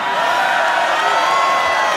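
A live concert crowd roars and cheers in a steady, dense wash of voices, loud and continuous throughout.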